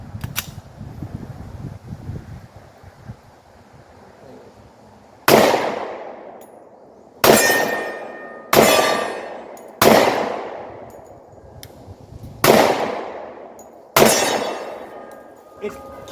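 Six loud, evenly spaced shots from a 10mm Glock 20 pistol with a Holosun 509T optic, each a sharp crack with a ringing decay outdoors, after a stretch of low murmuring voices.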